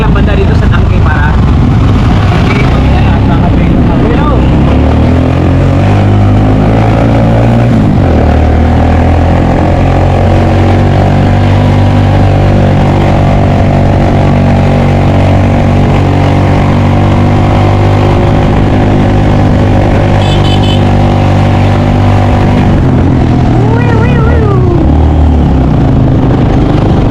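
Motorcycle engine running steadily and loudly close by for the whole stretch, a low droning hum with shifting pitch as it labors uphill, struggling to breathe at altitude.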